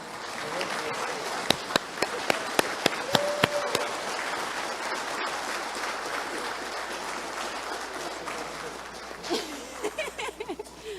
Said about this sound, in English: So I think we should all stand up and give this wonderful man a round of applause